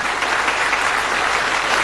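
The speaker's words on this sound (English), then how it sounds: "a nice warm round of applause for Vic and John." A TV studio audience gives dense, even applause during the Bullseye darts game show. The clapping is a short, loud, continuous burst with no talk over it.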